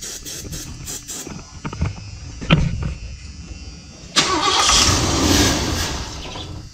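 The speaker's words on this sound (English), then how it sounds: "Definitely cranking better now though. I'll try one more time." A 1978 Ford E150 van's starter cranks the engine repeatedly without it catching, in uneven bursts of whirring that end in a louder, sustained rush of engine noise, with no speech.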